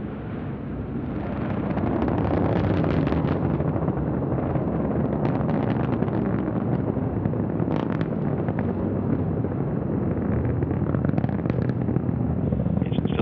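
An Antares rocket lifting off with a Cygnus cargo spacecraft gives a deep, continuous engine roar that swells within the first two seconds and then holds steady and loud, with faint crackle and buffeting in it and no voices.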